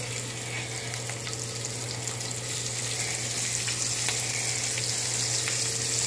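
Cut pieces of breakfast meat, bacon or sausage, frying in a skillet with a steady, even sizzle and crackle that holds at moderate level throughout, with no talking.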